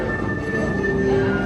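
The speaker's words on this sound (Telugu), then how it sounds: "చూడండి, హ్యారీ పాటర్ ట్రైన్." A Harry Potter themed train pulling into a station, a steady rumble with a faint high wheel squeal running through the short moment.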